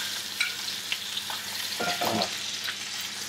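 A pigeon sizzles softly in a pan as it is basted, with a quiet, continuous crackle and a few brief louder spits. A voice speaks a single short word.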